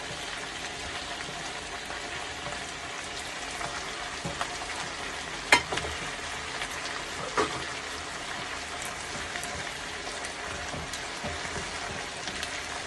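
Potato strips cut like fries frying with pui greens in a pan on high flame, a steady close crackling sizzle throughout with occasional stirring clinks, no talking.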